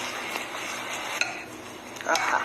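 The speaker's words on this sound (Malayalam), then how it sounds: "ഇനി ഞാൻ ചെറുതായിട്ട് അതിനെ ഒന്ന് മിക്സ് ആക്കട്ടെ." Prawn biryani with coriander and mint leaves is stirred in a pot, giving soft scraping and clinking of a utensil against the metal with a light background hiss, one sharper knock partway through.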